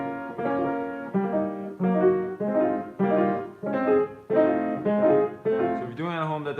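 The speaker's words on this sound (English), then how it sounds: "in practicing these rolls, incredibly important that you do it as evenly as possible from the bottom to the top note." Rolled piano chords, each spread evenly from the lowest to the highest note, sound in a steady series of about seven swells, close and clear with no talking.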